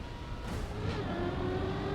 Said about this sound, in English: If I can manage to not slide out the rally car and crash a wall.